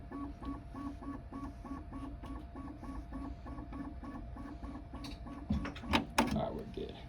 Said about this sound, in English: the Z screws take a lot longer than the X and Y